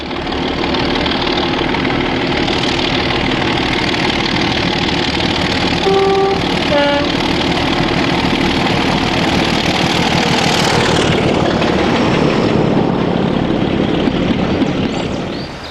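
Two diesel locomotives, 24081 and D9539, run their engines together, a steady loud throbbing drone holding throughout with no breaks.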